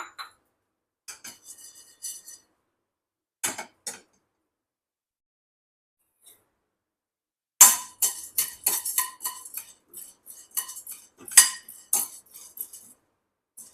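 Sparse light ticks and clinks of roasted gram dry-roasting in a pan, then a denser run of rattling scrapes and taps as they are tossed about.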